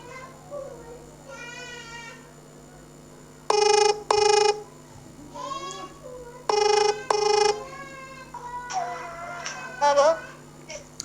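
A telephone rings during a call to a singer, with two loud paired bursts of electronic ringtone separated by a gap, mixed with warbling melodic tones and a faint hum throughout, without clear speech.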